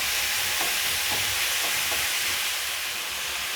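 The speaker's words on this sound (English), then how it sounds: "put my meat in a single layer so that it can sear" Meat laid in a single layer searing in a hot pan for an okra stew, giving a steady, loud sizzle with a few soft scraping touches, no voices.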